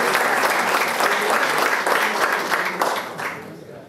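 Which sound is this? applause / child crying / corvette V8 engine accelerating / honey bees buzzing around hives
applause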